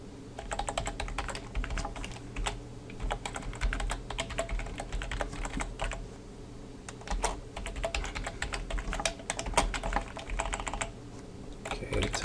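Steady stream of computer keyboard typing while code is written in the Eclipse IDE during PHP web development, with irregular rapid key clicks and occasional louder taps, close and continuous over a low background hum, no talk.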